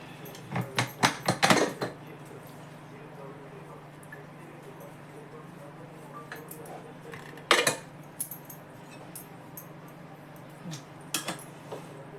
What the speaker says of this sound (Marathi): पूर्ण गार होऊ दिला कुकर उघडून बघते